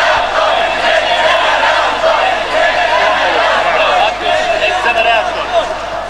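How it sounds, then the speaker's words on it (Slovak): A protest crowd during the 1989 Velvet Revolution in Czechoslovakia shouts in reaction to a speaker, a loud, sustained roar of many voices that swells and stays dense for several seconds. "A DAV reaguje."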